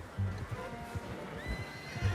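A horse in the Red Dead Redemption 2 game whinnies and snorts close by, with soft hoof clops and low rumbling around it and no talking.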